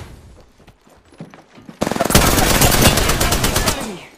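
Automatic gunfire in the shooter game Apex Legends follows a quieter stretch of scattered shots and clicks, then bursts into a loud, close, rapid string of shots lasting a couple of seconds.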